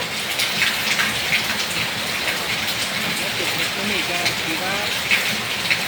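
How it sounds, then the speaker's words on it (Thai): A small waterfall flows down a mountainside in Chaiyaphum, Thailand, making a steady, close, broadband rush of falling water that continues throughout, with someone talking faintly underneath. "เห็นน้ำตกน้อยๆไหลลงมาจากภูเขาครับ"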